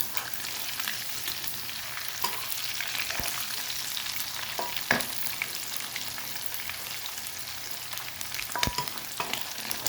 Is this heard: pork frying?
yes